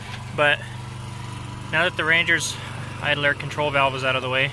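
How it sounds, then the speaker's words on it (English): Someone talks close up while a steady engine drone hums underneath, like a lawn mower running somewhere in the background. "excuse the lawnmower in the background"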